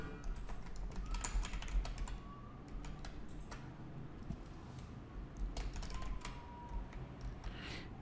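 An email address is typed on a computer keyboard as a run of light, uneven key clicks. The bursts of taps come close and fairly quiet, with brief pauses and no voices present.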